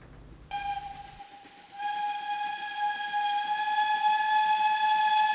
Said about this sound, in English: GWR Taffy Tank 5643 comes up Berwin Bank